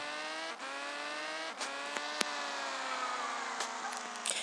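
A car in the video game Dude Theft Wars hits turbo boost, its synthetic engine note climbing in pitch through several quick gear steps, loud and close without talk.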